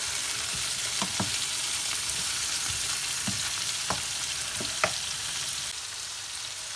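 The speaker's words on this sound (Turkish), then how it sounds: "bir miktarda böyle kavrulmasını bekleyeceğim. Pırasalar hafif buğulasın." Leeks sautéing in olive oil in a pan, a steady close sizzle with a few sharp stirring scrapes and clicks scattered through it, no voices.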